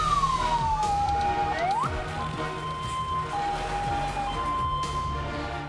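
A wailing fire engine siren sweeps up and down in pitch, loud and steady over background street noise, as fire engines respond to a blaze burning shophouses and homes in Makassar.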